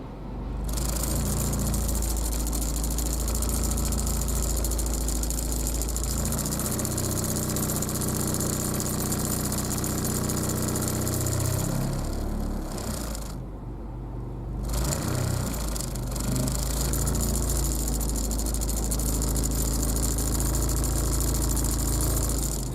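A Honda Civic engine idles with a worn engine mount, a steady low rumble and rattle heard from inside the car, loud and continuous with a brief dip midway and no talking.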